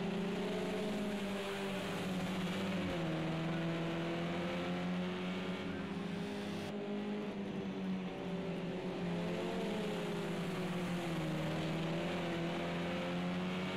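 BMW touring car engines at Sonoma in Project CARS 2 give a steady, loud, droning roar, the pitch rising and falling through gear changes as several cars run close together.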